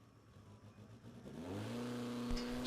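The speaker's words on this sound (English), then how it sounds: "So Eric Gold will get a free shot of the racetrack here." A 1981 Starlet drag race car making a solo pass at Maryland International Raceway's World Cup Finals. The engine roars and revs, its pitch climbing and growing louder over a constant background.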